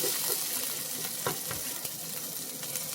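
Thinly sliced onions fry in butter in a pan, giving a steady, close sizzle with occasional soft stirring clicks and no talking.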